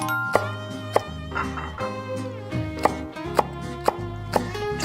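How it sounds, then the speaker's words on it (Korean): Chili peppers are sliced diagonally with a knife on a cutting board, sharp rhythmic chops landing about once or twice a second, close and clear with no voices. "그리고 고추는 어슷 썰기를 할게요"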